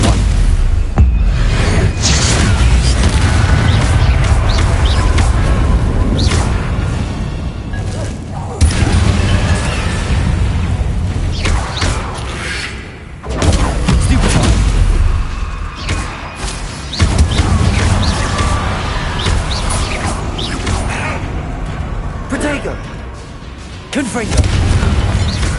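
Booming Confringo spell explosions from a wizard video game, dense and loud across a continuous battle, with repeated heavy blasts and crashes layered over each other.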